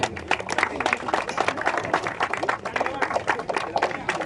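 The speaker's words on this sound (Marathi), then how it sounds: "सर्वांनी जोरदार टाळ्या वाजवायच्या आहेत" Dense clapping fills the air at a Dodavli Premier League 2026 cricket award ceremony, steady and continuous from a sizeable crowd, with a voice faintly audible underneath.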